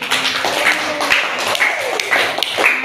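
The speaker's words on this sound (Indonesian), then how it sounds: "Tepuk tangan dulu untuk Reski." A class applauds a student, a steady patter of many hands clapping at once, fairly loud and close, filling the room without voices on top.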